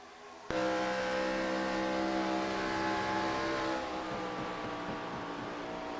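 Stock car engines roar at full throttle in an ARCA Series race at Auto Club Speedway, a loud sustained high-revving drone that kicks in abruptly and holds steady with little letup, no voices.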